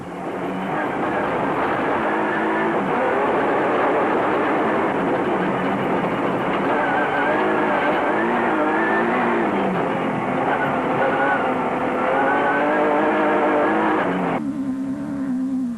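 Loud, sustained roar of a Jimco off-road race car with a Chevy 4.8 engine passing close in a 2005 race, droning and revving steadily before the tone drops at the end.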